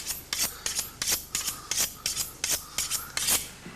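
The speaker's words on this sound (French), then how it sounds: "et Félicien, fais le joli bruit du couteau, vas-y" A knife blade scraped in repeated rasping strokes, about ten of them in a steady back-and-forth rhythm, close and fairly loud over a low background hum, with no talking.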